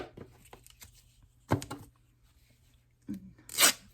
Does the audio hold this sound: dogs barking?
no